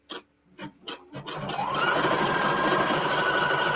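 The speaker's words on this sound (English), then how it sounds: "And it is doing a triple stitch, so it'll be nice and strong." A sewing machine runs a triple stitch around cut fabric, starting with a few short separate bursts before settling into a steady, continuous whirring stitch close by.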